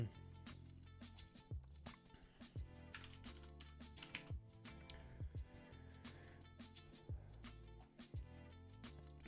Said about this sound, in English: Typing back to a friend here